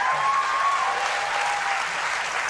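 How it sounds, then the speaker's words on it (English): Steady audience applause runs on in the background, a broad, even wash of many hands with a faint whistle-like tone drifting over it. "if you hear the audience applause in the background too"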